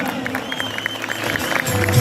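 Audience applause at a cricket league opening ceremony in Jhelum, a short burst of scattered clapping under a loudspeaker-style announcer's voice carrying over the crowd.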